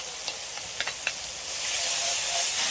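Ginger and green chilli paste frying in a pan with onion and tomato for a pointed gourd curry, a few quick scraping stirs followed by a rising, steady hiss of sizzling, with no talking.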